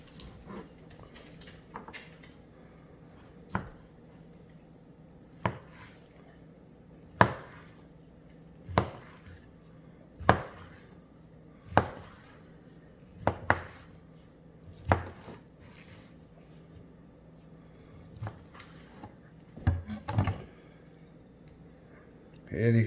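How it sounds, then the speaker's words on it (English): Knife chopping through smoked baby back pork ribs from a pellet smoker, flipped bone-side up on a board: a series of sharp, close thuds spaced a second or two apart, sometimes in quick pairs, over a quiet background. "I like cutting them upside down, that way you can see where the bones are."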